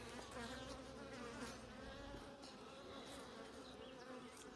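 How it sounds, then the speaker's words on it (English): Dense, steady buzzing of a honeybee colony inside an opened hive during a requeening check, loud and close, continuous with no talk. "This is a very buzzy colony."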